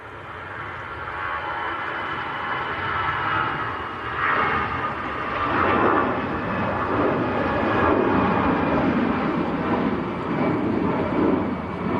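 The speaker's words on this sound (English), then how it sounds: "Next to go is EasyJet to Amsterdam." EasyJet Airbus A320 departing Manchester Airport for Amsterdam, a rising then sustained jet roar heard at a distance, swelling in waves with no voices.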